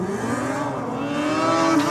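Drag racing motorcycles launching off the line at Sydney Dragway during bike night, a loud steady engine roar rising in pitch as the bikes accelerate away.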